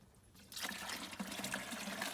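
Maple sap poured from a container into a simple strainer, a steady splashing trickle that starts abruptly and runs continuously, close and fairly loud.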